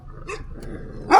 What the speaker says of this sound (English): Oh my god, they have 2 unleashed dogs.